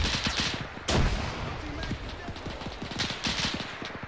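Rapid, dense machine gun fire rattles through a D-Day Pointe du Hoc video game battle in continuous bursts, with a heavier blast near the start.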